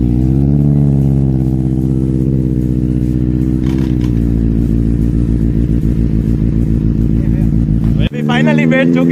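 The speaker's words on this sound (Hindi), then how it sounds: "मैं आपको इसका एग्जॉस्ट का साउंड ही अभी सुना देता हूँ" Exhaust of a Benelli TNT 600i four-cylinder motorcycle idling loud and close, a steady deep burble with rising revs near the end before a brief blip, alone without talk.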